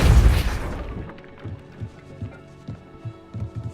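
A Depulso spell cast in the Hogwarts Legacy video game, a sharp booming burst of force that quickly fades, followed by soft thudding footsteps, with no talking after it.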